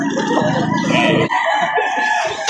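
An eight-month-old Gilmore Hatch gamecock at a poultry market crows loudly and close by, a single long call breaking into clucking, with other birds faintly behind.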